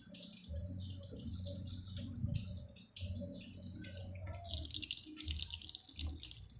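Water pours from a hose into the drum of an automatic washing machine, a steady trickling and splashing close by that grows brighter and fuller toward the end, with a low hum underneath.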